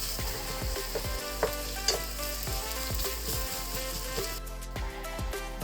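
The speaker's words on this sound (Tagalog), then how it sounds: "haluin natin yung pinigisa natin para matunaw din yung kamatis" Sautéed tomatoes sizzle steadily in a frying pan while a utensil stirs them in regular scraping strokes, close and fairly loud, with no one speaking.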